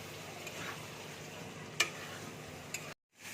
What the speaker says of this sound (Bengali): এবার আমি চিংড়ি মাছ দিয়ে দিচ্ছি, দিয়ে মশলাটাকে ভালো করে কষিয়ে নেব।